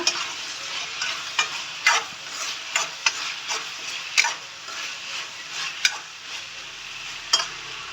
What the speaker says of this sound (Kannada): ಅಚ್ಕರದ ಪುಡಿ ಹಾಕ್ಬಿಟ್ಟು ನೀಟಾಗಿ ಇದನ್ನು ಇನ್ನೊಮ್ಮೆ ಮಿಕ್ಸ್ ಮಾಡ್ಕೊಳ್ಳೋಣ